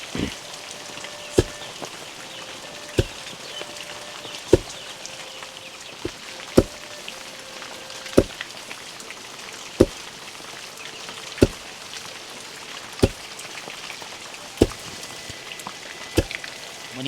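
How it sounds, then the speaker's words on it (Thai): Rain falls outdoors as a steady soft hiss, with sharp knocking drips landing at regular intervals of a second or two. "วันนี้ฝนตกฝนลิ่นมันนี่แมนฝอยเลยนะอันนี้คือฝนตกที่แท้จริงเลย"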